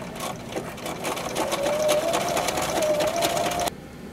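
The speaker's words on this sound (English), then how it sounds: "do a zigzag stitch over the edge of the seam" A sewing machine runs steadily at a fast buzzing pace, stitching a zigzag over the edge of a fabric seam on a small treat bag, close and continuous before stopping abruptly.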